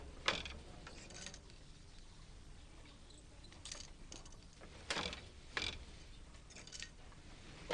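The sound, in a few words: handloom weaving with throw shuttle in Manipur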